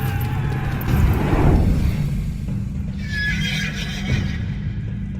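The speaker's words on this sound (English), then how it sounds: "A warhorse was no ordinary horse." A warhorse whinnies loudly in a long neigh, with hooves clip-clopping steadily beneath it and a second, higher neigh near the end, heard up close with no talk.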